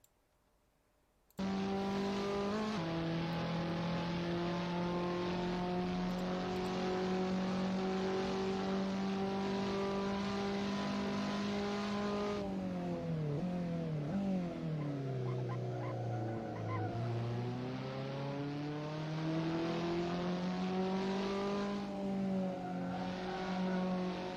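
A race car engine drones loudly through a last lap of sim racing at the Nürburgring, holding steady pitch, then dropping and rising again through gear changes and braking for a corner before settling back to a sustained high whine.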